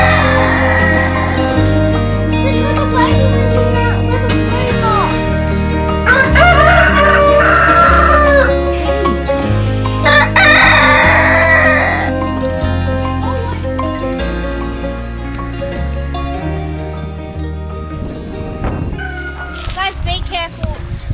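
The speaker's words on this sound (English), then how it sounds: "There's a chicken" A chicken clucks several times among other farm animals, with loud, frequent speech from people nearby layered over the bird sounds.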